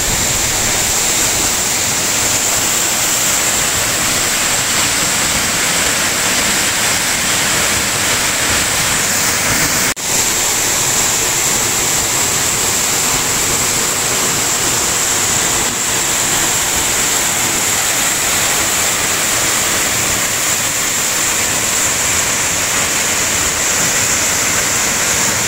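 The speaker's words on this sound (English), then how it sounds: "We're directly behind the waterfall right now." A waterfall in Springbrook National Park, Australia, heard from directly behind the falling water as a loud, steady, broadband roar that fills the whole span without a break.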